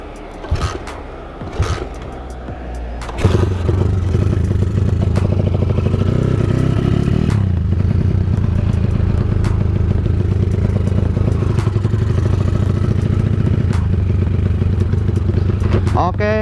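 A motorcycle engine idles and revs steadily up close, a constant low rumble running throughout after an initial clatter, with some voices mixed in early on.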